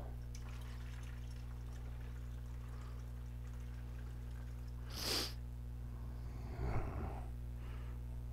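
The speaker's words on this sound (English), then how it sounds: "take your next pail of water and pour that in there too" A pail of water is poured into a homemade black-sand flower gold trap, a brief splashing gush midway over a steady low hum, followed by a softer trickle and drip of water.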